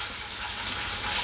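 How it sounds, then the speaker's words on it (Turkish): Köfte meatballs fry in a pan with a steady, close hiss and sizzle of hot oil, even and continuous throughout, with no talking. "Dikkatli bir şekilde kızartıyorum."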